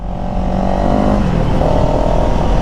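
A CFMOTO CLX700 motorcycle in sport mode accelerates with a loud, close engine roar whose pitch climbs and then shifts as it changes gear.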